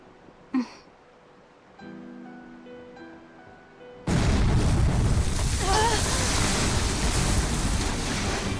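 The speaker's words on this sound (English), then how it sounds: "Cannon fire astern!" Cannon fire from a pirate ship in Tales of Berseria: a short boom near the start, then a sustained loud roar of crashing water, wind and rumbling that fills the rest, with a low musical drone underneath.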